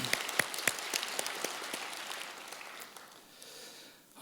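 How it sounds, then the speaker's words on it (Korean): A church congregation applauds the choir, orchestra and worship team after a Sunday service song, clapping densely at first and then thinning and fading over a few seconds. "큰 박수로 이 시간 격려해 드리도록"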